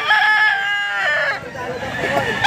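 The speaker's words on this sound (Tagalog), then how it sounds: "Tindahan ng mga manok." Chickens and a rooster at a pet market stall, with a crow-like call and dense clucking over a busy market din, voices audible nearby.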